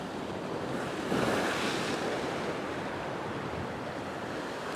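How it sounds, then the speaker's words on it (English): Ocean waves surge and wash over coastal rocks near high tide during winter rock fishing, a steady loud roar with one swell building about a second in, mixed with wind buffeting. "I'm watching the waves all the time because it's getting close to high tide"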